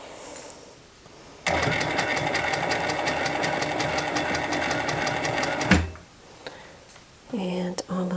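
A sewing machine stitches adult t-shirt fabric into boys' britches, running in one continuous fast whirring burst for about four seconds before stopping. A brief voice and some handling noise follow near the end.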